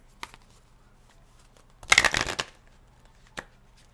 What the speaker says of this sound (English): Oh no, they didn't want to shuffle.